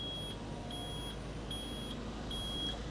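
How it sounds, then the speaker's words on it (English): A Komatsu PC220LCi excavator gives off repeated high electronic warning beeps, about four evenly spaced double tones, clear above a steady low engine rumble with no talking. "Why is it beeping?"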